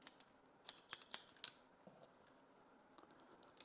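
Scissors make several crisp, quick snips in short clusters, close and fairly quiet, as a stylist trims permed, curly hair combed forward from the crown and fringe for a short ear-length cut.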